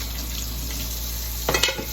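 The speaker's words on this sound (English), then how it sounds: "I'll leave the water on for one more second because I am going to wash my hands." Kitchen tap water runs steadily while chili is being made, a continuous close hiss with a brief louder splash of water near the end.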